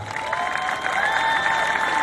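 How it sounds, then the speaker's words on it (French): Crowd applause with some cheering at a Canadian fitness and bodybuilding expo event, a dense, continuous wash of clapping at fairly loud level with a faint tonal hum running through it. "On les applaudit."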